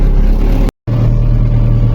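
An MTZ-82.1 tractor engine drones steadily under load while pulling a Bomet plow through an alfalfa field, a loud, close, continuous rumble that cuts out briefly to silence before resuming.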